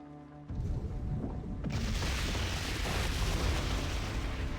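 Catapult explosions in World of Warcraft, a sudden booming blast followed by a continuous roaring rumble of further detonations and debris, loud and sustained.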